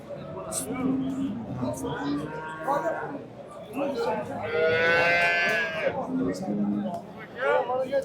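Cow lowing at a livestock market in Qarshi, a long drawn-out moo rising above steady nearby talk among men, with other animal calls mixed into the bustle.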